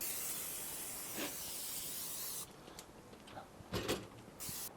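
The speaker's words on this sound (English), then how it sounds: "Gonna spray it down with a little olive oil to help form the crust on the outside." Olive oil is sprayed onto a large prime rib roast in a long, steady close hiss, followed by several short, sharp spray bursts.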